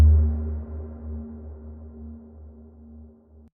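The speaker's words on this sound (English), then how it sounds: "sort of groan effect, which I can't think of any other way of describing it, but it's a combination of two of the effects patches," A synthesized groan effect layered from two U-he Repro effects patches, a low sustained droning tone with a steady mid hum that slowly decays over a few seconds, heard alone.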